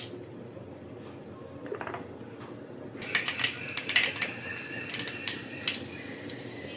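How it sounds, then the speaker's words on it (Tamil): Mustard seeds popping in hot oil in a kadai while tempering for a Tamil crab curry, a dense run of sharp, crackling pops that builds abruptly and keeps spluttering close by, with no talk. "கடுகு நல்லா பொரிஞ்சிருச்சு."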